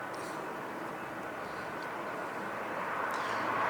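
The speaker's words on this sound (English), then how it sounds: "So this is an A330." Airbus A330 airliner landing at LAX, a steady broadband engine roar and rushing noise that grows slightly louder toward the end, heard from a distance without talk.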